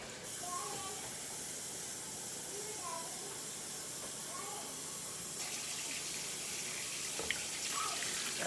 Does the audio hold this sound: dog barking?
no